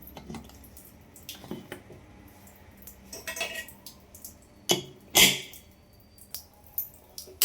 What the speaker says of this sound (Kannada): ಇವಾಗ ಕುಕ್ಕರ ಕ್ಲೋಸ್ ಮಾಡ್ತೀನಿ.